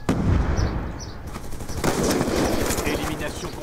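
A weapon in Black Ops 2 fires a fast rattling burst that carries through the second half, loud and close over dense game noise, with a voice talking at the start.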